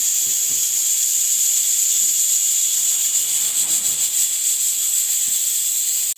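A stove flame heats a clay cooking pot (chatti), giving a steady, fairly loud hiss that holds even throughout with no speech.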